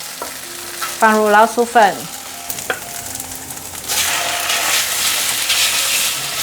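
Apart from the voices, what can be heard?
stir-frying carrots in a wok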